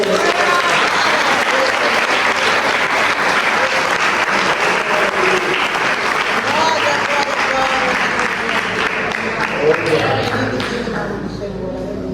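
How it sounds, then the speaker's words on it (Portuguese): A church congregation applauding during a sermon, dense sustained clapping filling the space with voices talking and calling out underneath, fading slightly toward the end. "Aplauda o nome do Senhor."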